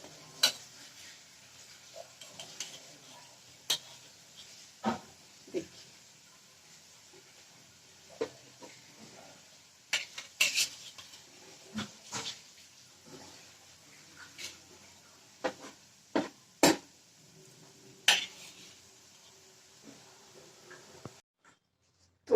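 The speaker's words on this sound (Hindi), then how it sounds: "तो अब हम अपने एक एक बिस्किट को आराम से निकालते हैं।" Fried wheat-flour designer biscuits are lifted one by one out of a hot kadhai after the gas is switched off: sharp, scattered clinks and scrapes of a utensil against the pan over a faint quiet background.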